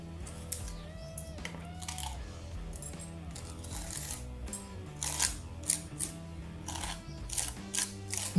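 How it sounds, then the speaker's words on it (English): Coarse texture paste containing sand is spread by a painter, a close gritty scraping and rasping with irregular clicks and taps of the tool. "You can hear, I think it's got a little bit of sand or something in here."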